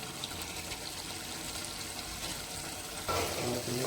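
Eggs for egg bhurji sizzle in a hot pan, a steady frying hiss throughout that swells louder near the end as the eggs are added and stirred.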